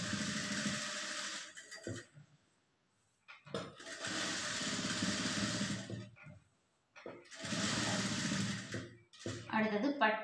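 Sewing machine stitching a lining blouse, running in three long steady bursts separated by short pauses, close and fairly loud with a brief clatter at the end.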